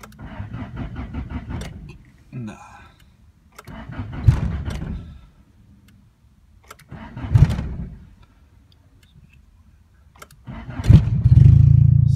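A car engine is cranked several times on a very warm day, with three or four loud starter bursts separated by pauses before it catches and settles into a rough idle.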